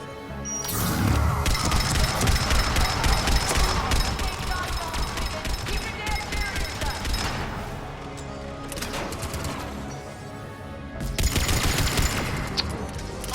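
Sustained automatic turret gunfire in the Mass Effect 3 video game, a dense rattling barrage of rapid shots with crashes mixed in, loud and close, dipping briefly before another burst near the end.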